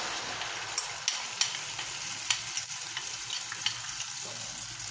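Egg mixture for an omelet fries in hot oil in a pan, a soft, steady sizzle with scattered faint pops and crackles.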